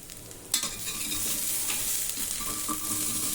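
Ginger garlic paste fries in hot oil with a steady, close sizzle, following one sharp clank of the paste hitting the pan, with no talking.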